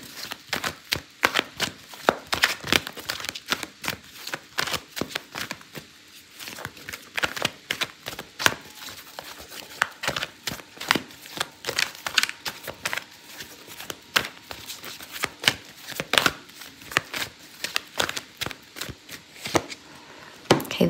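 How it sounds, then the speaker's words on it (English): Tarot cards being shuffled and drawn make a long run of crisp, close riffling snaps and soft slaps, irregular in rhythm and moderately loud, without speech. "I'm going to pull out a card for your advice"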